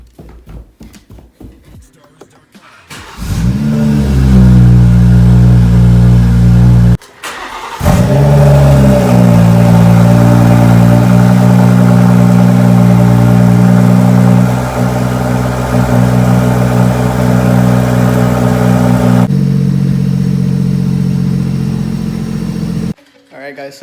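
A BMW B58 engine with a catless downpipe cranks and fires up, then revs loudly through a raspy exhaust, briefly cutting out before restarting and holding a steady, throaty drone.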